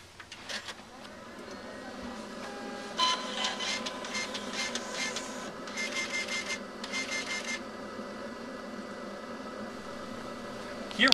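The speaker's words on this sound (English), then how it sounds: "Now allow me to demonstrate both printers." TCG colour wristband printer printing, a close mechanical whir and buzz with stuttering bursts of feed noise over several seconds, ending with a short clunk.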